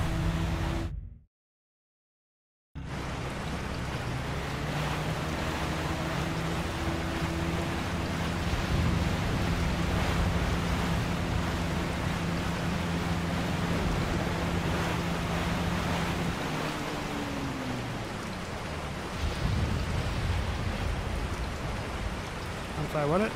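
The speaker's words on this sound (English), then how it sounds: "Waterfall." Waterfall in the video game Resident Evil 4 gives a dense, steady rushing roar, loud and continuous for about twenty seconds after a short silent break near the start, with low ambient tones underneath.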